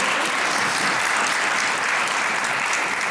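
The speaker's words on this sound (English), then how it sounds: "give them another round of applause to finish up" An audience at a summit event claps steadily, a continuous wash of many hands at moderate loudness with no voices over it.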